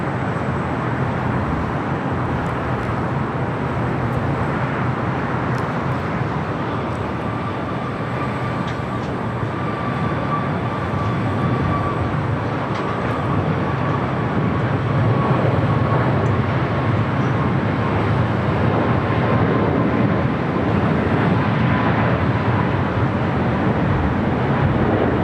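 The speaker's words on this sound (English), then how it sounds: "Air Canada flight 557 heading to Vancouver, 737 MAX 8 is our next takeoff here on the south side." An Air Canada Boeing 737 MAX 8 takes off from the south side of LAX, bound for Vancouver, with a loud, steady jet roar that holds unbroken throughout and builds slightly toward the end.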